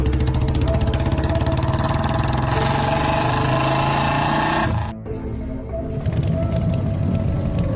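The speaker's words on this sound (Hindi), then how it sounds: "फिर बाबा बाइक लेकर निकल जाते हैं खूनी पिग के घर की तरफ" A motorcycle engine runs loud and steady, then cuts off abruptly partway through and a quieter, different rumble follows as the bike rides away.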